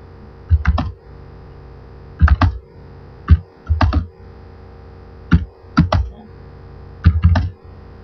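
Typing on a computer keyboard while entering data in an Excel spreadsheet: several short bursts of crisp, close key clicks separated by brief pauses, with no voice.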